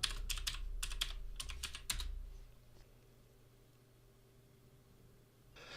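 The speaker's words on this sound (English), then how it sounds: "type in my password" A password is typed on a Mac keyboard as a quick run of crisp, close key taps in short bursts over about two seconds, followed by near quiet and one faint later click.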